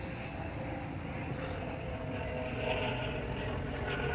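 A helicopter passes overhead outdoors, making a steady, loud, broadband rotor-and-engine rumble that holds for the whole stretch and swells slightly toward the end.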